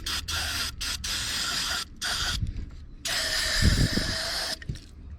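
Carburetor cleaner hisses from an aerosol can onto a Briggs and Stratton carburetor on a cheap ride-on mower, several close, loud bursts of spray separated by short pauses.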